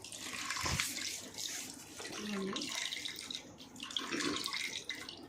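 Water pours and splashes into a bowl of tamarind pulp, with irregular bursts of trickling and sloshing close by and no speech.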